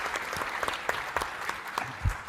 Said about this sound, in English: let's give a round of applause to this panel